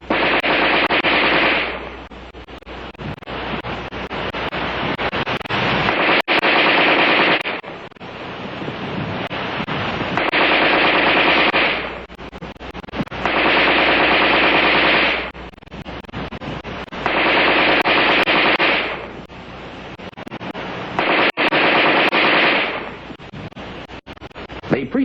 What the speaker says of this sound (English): The rifleman fired 100 rounds of NATO ammunition in 30 seconds.